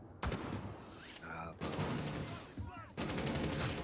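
Gunfire in the video game Rainbow Six Siege aimed at a shield: several loud bursts of rapid shots separated by short gaps, with ringing metallic effects between them.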